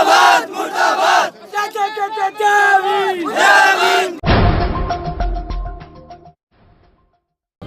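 A crowd of young protesters in Rajasthan shouts rhythmic 'murdabad' slogans against a Dalit MLA, loud massed voices rising and falling in repeated bursts, then giving way to a sharp clatter and a fading tail.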